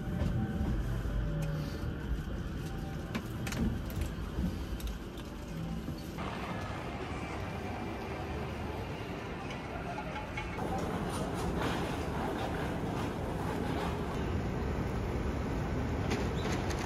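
Tokyo metro train riding along the rails, with a steady low rumble and rattling clatter throughout, fairly loud and continuous, with no talking.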